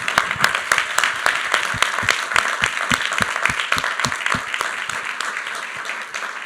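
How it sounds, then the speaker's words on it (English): An audience at a university speaker-series lecture applauds, individual claps sharp and distinct over a dense wash of clapping that tapers slightly toward the end. "Let's offer a round of applause for Dr."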